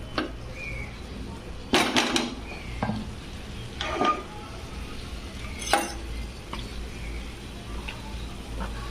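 Amaranth leaves frying and being stirred in a pan: a soft steady sizzle sits under sharp clinks and scrapes of a spatula against the pan, with several louder knocks standing out from the quiet background.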